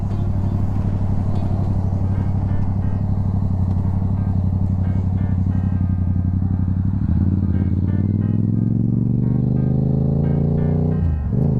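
A motorcycle engine idles with a steady low rumble, then revs up toward the end, rising in pitch before cutting back.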